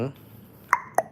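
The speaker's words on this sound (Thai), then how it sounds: "อันนี้คือเสียงที่ผมเดาะลิ้นแล้วนะฮะ" Two sharp tongue clicks, made like a cat-training clicker, snap out close and crisp about a quarter second apart, after a brief trailing voice at the start.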